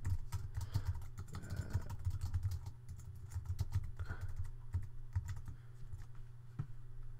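Close typing on a computer keyboard, with rapid uneven clusters of key clicks and short pauses between bursts, no voices over it.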